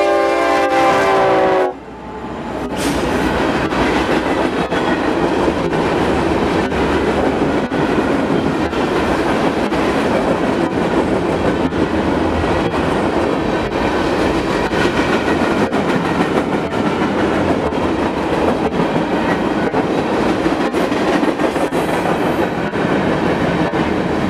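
A loud train rumbles past continuously, with a horn blast at the start and steady rolling clatter of rail cars throughout.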